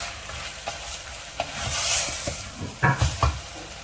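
Mutton frying in a pan is stirred for a mutton soup, the continuous sizzle broken by several sharp scrapes and clacks of the spoon, louder knocks bunching near the end, with no one speaking.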